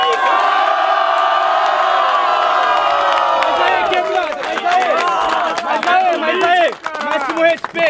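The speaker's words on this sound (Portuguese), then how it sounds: "Barulho pro Dre e pro Inverso" A large crowd at a rap battle final roars and cheers loudly, with whoops and shouts rising over a dense wall of applause and excited voices.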